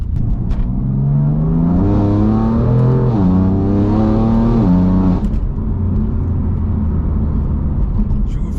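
A BMW M4 with a straight-piped exhaust, only the stock muffler left, revs up and holds a loud, droning exhaust note, then drops back to a deep, rumbling idle, heard up close without talking.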